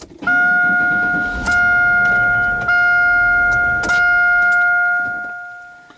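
The starter of a 1995 Pontiac Grand Am cranks the engine, producing a loud, steady electric whine that holds for several seconds with a few sharp knocks before it fades.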